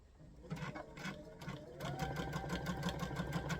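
A sewing machine stitches a seam on a pieced quilt block, starting with short bursts and then running in a steady, rapid mechanical rhythm, close and clear with no talk.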